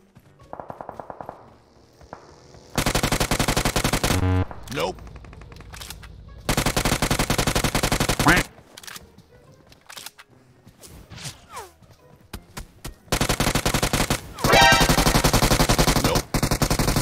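Loud bursts of automatic gunfire in PUBG, rapid rattling volleys lasting a second or two each, separated by gaps with scattered single shots and faint background sounds.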